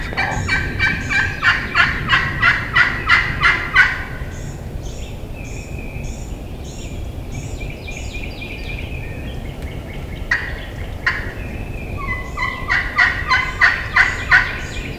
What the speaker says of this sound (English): This turkey's gobbling out there about 250 yards away, over on the private side.